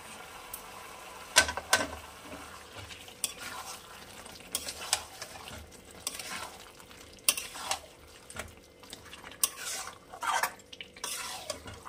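Chicken korma with yogurt, salt and Kashmiri red chilli powder stirred in a pot, a spoon scraping and clacking in repeated bursts over a steady, close sizzle of frying, with no voices.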